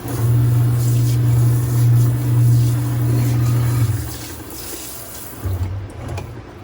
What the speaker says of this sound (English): We're going to turn on the water, turn on the sprayer, and go across.